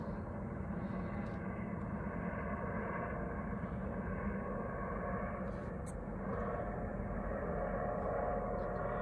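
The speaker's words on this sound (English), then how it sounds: "see the Coast Guard helicopter right there" Coast Guard helicopter nearby over an anchorage at Prevost Harbor, Stuart Island, a steady, droning engine roar held throughout at moderate distance, with no talk.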